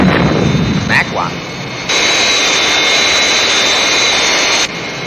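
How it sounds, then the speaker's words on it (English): A Thunderbirds jet aircraft roars through its takeoff, a loud sustained wide-band jet engine rush that swells sharply partway through and holds steady before dropping back, with brief voices and effects near the start. "I just couldn't fault that takeoff."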